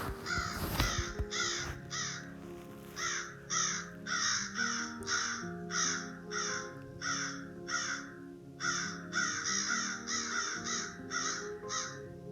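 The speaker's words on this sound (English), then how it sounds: "When you hear crows cawing, 9 or 10 calls all in a row, that's a companion call." Crows cawing in a long series of short harsh calls, repeated about a dozen times in a steady rhythm, moderately distant, over faint backyard background noise.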